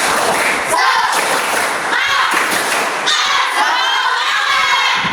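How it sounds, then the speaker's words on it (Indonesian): Schoolchildren in a classroom doing a rhythmic spirit clap (tepuk semangat): patterned group claps and thumps under loud, excited shouting and chanting from the whole class. "Lagi tepuk semangat."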